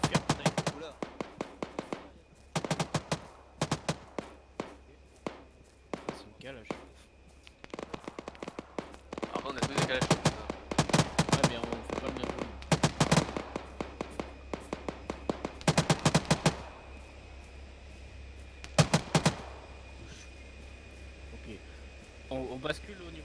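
Bursts of gunfire in ARMA 3 crack repeatedly in clusters and rapid volleys, some close and sharp, others more distant, with players talking over the shooting.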